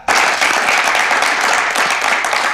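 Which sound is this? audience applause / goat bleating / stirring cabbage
audience applause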